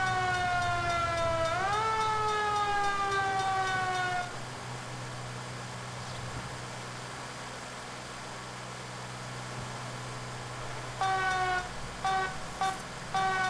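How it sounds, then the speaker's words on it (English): A police siren in the video game L.A. Noire wails, rising and sweeping in pitch, stops abruptly, leaving a low background rumble, then returns in short, choppy bursts near the end. "I don't like how it starts the siren mid-siren."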